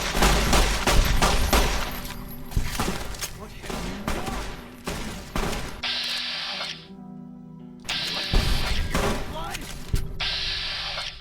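Rapid bursts of gunfire from a scoped gun in the video game Fallout: New Vegas, loud and close, with clustered shots and short gaps between volleys.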